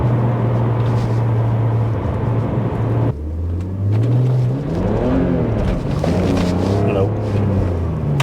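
A BMW E46 330ci fitted with headers and new cats revs hard as its tires struggle for traction, the engine note rising and dropping in repeated surges with no grip. Someone speaks over the engine.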